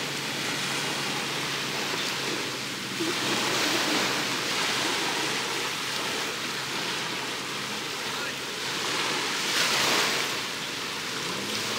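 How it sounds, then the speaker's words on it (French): Steady wash of sea waves rolling onto the beach right in front of a campsite, a constant broadband surf roar with gentle swells rising and falling, no voices over it. "On entend plus la mer que les voitures."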